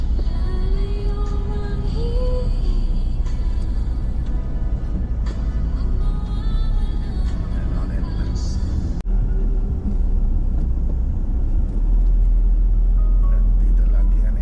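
Road traffic near a busy market, a constant low rumble of passing cars and trucks with occasional horns, heard up close from inside a vehicle while people talk over it.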